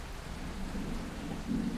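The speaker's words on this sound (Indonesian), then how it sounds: "Lagi hujan petir" Steady rain with a low thunder rumble in the Bus Simulator Indonesia video game, a continuous wash of rainfall swelling slightly at the end, with no talk.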